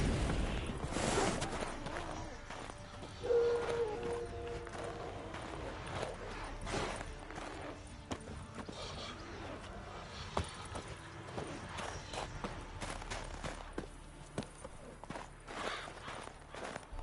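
Horse hooves clip-clopping in the video game The Witcher 3 next-gen update, a steady rhythmic run of hoof beats carrying through the scene over soft ambient game sound.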